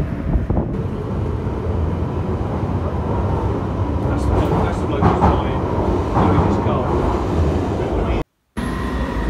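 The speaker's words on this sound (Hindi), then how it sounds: "ले ट्रेन आ गई है, अब इसमें चलते हैं।" Train pulling into a station on a London trip, a loud continuous low rumble and rolling clatter close by with rail squeal, a brief dropout near the end.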